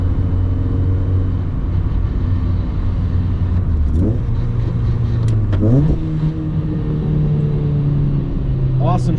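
A modified Honda Fit GD3 engine drones steadily while driving, with rev rises and gear shifts marking the pitch changes, loud and close from inside the car.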